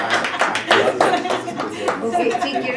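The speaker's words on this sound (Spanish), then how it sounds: "Excelente, un aplauso." A room of participants at a mental health technical working meeting gives a short round of applause, quick overlapping claps that are fairly close and steady for a few seconds, with talking underneath.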